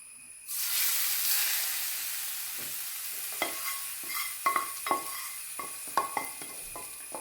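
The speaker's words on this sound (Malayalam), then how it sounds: "നെയ്ക്കകത്ത് ആ കുരുമുളകും കടുകുമൊക്കെ പൊട്ടിയതിൻ്റെ നല്ലൊരു ഓൾ സ്പൈസസും മൂത്തതിൻ്റെ കേട്ടൊരു മണം." Black pepper and mustard seeds spluttering in hot ghee as a tempering for chicken roast: a sudden hiss fades into a steady sizzle, then sharp crackling pops burst out with growing frequency.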